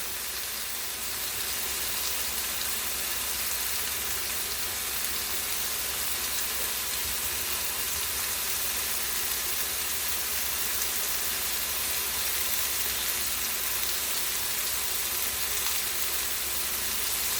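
Food with marinara sauce cooking in a home kitchen, giving a steady, broad sizzling hiss that holds evenly throughout at moderate volume, with no voices.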